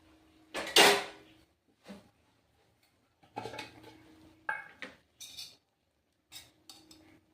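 Scattered metallic clanks and knocks as a griddle pan is placed on a gas stove, one loud clatter followed by several softer bumps and pauses, close by in a quiet room.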